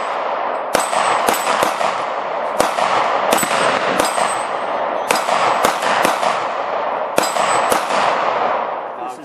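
Rounds from an AR-style .223 rifle strike steel center-fire plates on a dueling tree about 70 yards out, giving sharp metallic clangs with ringing tails, some in quick doubles, spaced irregularly over steady outdoor noise.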